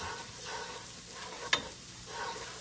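Chopped onion sautéing in a pot for a one-pot quinoa, spinach and chickpea meal, giving a soft, steady sizzle with light stirring scrapes and one sharp clink of a utensil partway through.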